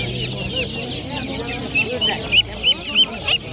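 Ducklings for sale at a poultry market peep in short, high, repeated bursts close by, over a background of other fowl clucking and market chatter.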